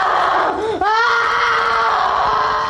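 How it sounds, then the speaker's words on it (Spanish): A girl screams during an alleged exorcism, a loud, close, sustained shrill cry that dips briefly, breaks, then resumes and holds. "En la sala solo se escuchan los gritos de la supuesta posesa."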